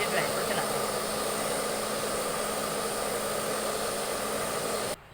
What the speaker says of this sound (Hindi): इस तरीके से ड्रायर को चलाना है।